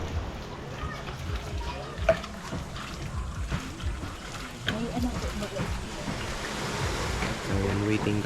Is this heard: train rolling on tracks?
no